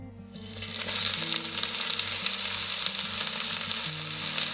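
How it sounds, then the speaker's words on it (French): Onions dropped into hot olive oil in a cast-iron pot hiss into a loud, steady sizzle right after a quiet start, with a low electrical hum running underneath. "Je vais ajouter de l'huile d'olive. Voilà. Et je vais y mettre les oignons."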